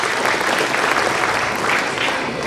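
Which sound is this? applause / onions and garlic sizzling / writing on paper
applause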